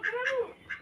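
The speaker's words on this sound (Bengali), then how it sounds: "ঘরে ঢুকে না তো একটা হাঁস" A duck being herded into a house on a rural homestead gives a few short nasal calls in quick succession, close and fairly loud, with no talk over it.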